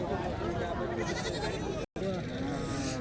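Goats bleating among the crowd at the Kharsundi goat and sheep market in Atpadi, Sangli, with steady, close calls running under constant chatter and a brief dropout near the middle.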